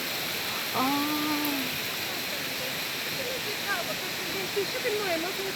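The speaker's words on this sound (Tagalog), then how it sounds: "There is a waterfalls. Small waterfall." Small waterfall at Duzce Falls in Turkey gives a steady, close rushing roar of falling water, while people talk briefly over it.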